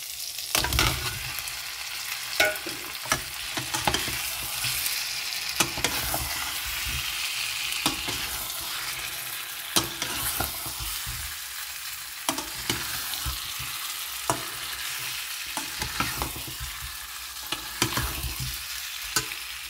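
Fork-pricked potatoes fry in spiced oil for a Bengali-style alur dom, a constant crackling sizzle with frequent scraping stirs and sharp clinks of the spatula against the pan.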